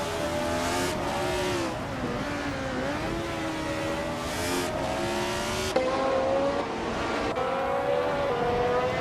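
Race car engines in a racing video game whine and rise in pitch through gear changes, with several cars layered close together in a continuous loud drone that dips and climbs without pause.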